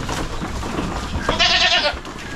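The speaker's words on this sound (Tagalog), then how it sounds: "napakarami naman sa ating kambing" Goats bleating on a farm, a close, clear bleat with a wavering tone lasting about half a second, set against steady background rustle and murmur.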